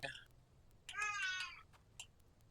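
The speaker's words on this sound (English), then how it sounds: "That's my cat." A house cat lets out a single drawn-out meow close by in a quiet room, preceded and followed by faint brief chirps and clicks.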